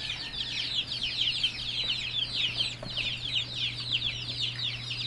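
Dense, continuous high-pitched peeping from many chicks at once, a busy overlapping chorus with a low steady hum underneath.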